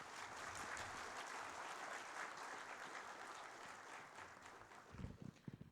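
Audience applause welcoming the defence minister at a formal event, a steady, fairly faint roll of many hands clapping, ending with a few thumps.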